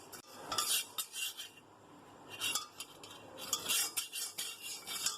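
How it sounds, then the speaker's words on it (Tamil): Metal spoon scraping and stirring rice as it dry-roasts in a pan for coconut idli podi, repeated bright clinks and scrapes in uneven bursts, close and clear with no talking. "நல்லா வறுத்துட்டு உங்களுக்கு காமிக்கிறேன்."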